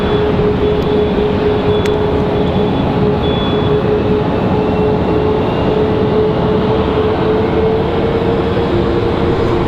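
An Icelandair jet taxiing at Raleigh-Durham airport gives a steady, loud, broad engine roar with a constant whining tone, holding level throughout without a break.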